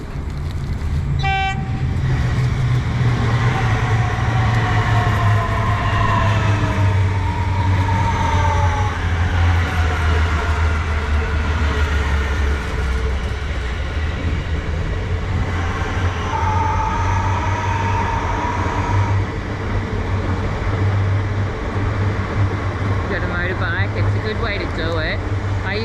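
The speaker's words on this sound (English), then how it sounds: "I'm going to show you this train leaving quickly." A train pulls out of a station in Oakleigh, Melbourne, with a steady loud rumble of wheels and engine, a brief horn toot early on and rising tonal whines as it gathers speed, heard close by.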